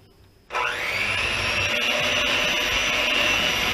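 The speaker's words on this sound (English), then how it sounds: "we're going to beat these egg yolks and sugar together" An electric mixer beating egg yolks and sugar for homemade eggnog, switching on abruptly with a steady loud whine that holds close and continuous to the end, with no talk.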